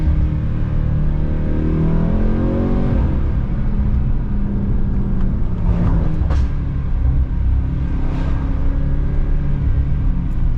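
A Mercedes Kugel S600 with over 600 hp accelerates in a steady, loud engine drone heard from inside the car, its pitch climbing through gear changes and settling back again.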